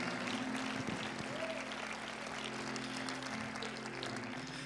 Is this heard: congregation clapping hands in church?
yes